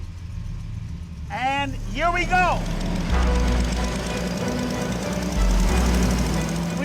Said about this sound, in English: V12 monster of a motor